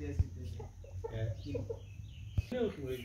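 Chickens cluck and murmur nearby in short, irregular bursts, with a couple of sharper knocks and soft background noise.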